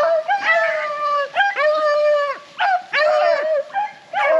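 A pack of rabbit-hunting beagles bays on the track, loud close howls and drawn-out yowls overlapping in uneven bursts with short gaps between them.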